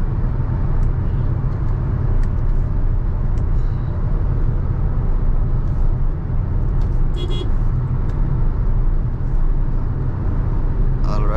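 Steady low engine drone and road rumble inside a Honda Elevate with manual transmission cruising at 100 km/h on a highway, constant and close, with faint clicks and small rattles now and then.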